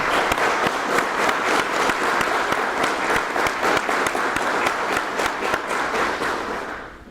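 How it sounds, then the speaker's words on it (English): Sustained audience applause at a Border Patrol Academy graduation ceremony, a dense, even wash of many hands clapping that holds steady and then begins to fade near the end. "let's please have a round of applause for all of our award winners"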